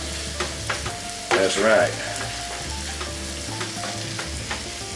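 Meat and onions for a Louisiana-style jambalaya frying over high heat, a steady close sizzle with stirring scrapes and a brief louder burst of crackle, while someone speaks a couple of words.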